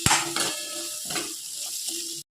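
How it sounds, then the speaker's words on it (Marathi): Onion and curry leaves sautéing with whole spices in a pan, a steady sizzle with spoon stirring and clattering strokes against the pan, close and fairly loud throughout before cutting off. "कांदा, कढीपत्ता चांगलं परतून घ्यायचं थोडंसं,"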